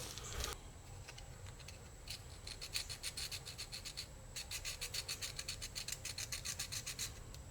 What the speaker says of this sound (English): getting all the dirt and grime out of there with just some fine sandpaper